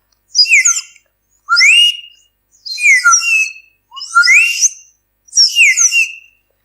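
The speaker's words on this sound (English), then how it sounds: "So yeah, that's a slide whistle for you." A slide whistle plays five separate bright, high-pitched swoops, each sliding up and down in pitch, spaced about a second apart, loud and close against silence.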